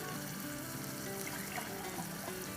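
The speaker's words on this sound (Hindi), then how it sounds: "ये जो बचा है इसमें डाल देंगे आधा कप और पानी" Half a cup of water poured into a pan of sauce with sautéed garlic and ginger gives a brief, continuous watery rush mixed with sizzling, fairly close and even in level.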